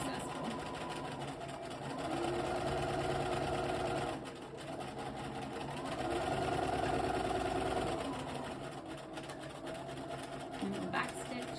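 Sewing machine stitching a jacket sleeve, its rapid mechanical whir speeding up and slowing down in bursts across the stretch, close and steady, with a faint pause between runs and no talk over it.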